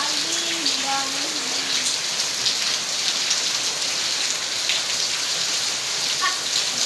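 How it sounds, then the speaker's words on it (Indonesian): Steady rain falls and patters on surfaces outdoors in an even, dense hiss; a voice briefly murmurs early on beneath the downpour. "Hujan lagi,"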